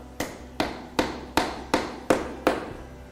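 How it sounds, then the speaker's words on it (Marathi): A frozen banana is used as a hammer to drive a nail into wood in a low-temperature science demonstration. Seven sharp, evenly spaced knocks ring out close and loud, one about every 0.4 seconds, with no talking over them. "हॅमर नाही मिळाली म्हणून आम्ही केळ्याने पण खिळा ठोकतो."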